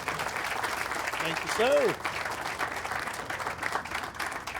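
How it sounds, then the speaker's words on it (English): Crowd applause at an outdoor groundbreaking in the 18th and Vine jazz district welcomes the mayor, a steady moderate patter of many hands throughout, with a voice briefly speaking over it midway. "Let's give him a big round of applause."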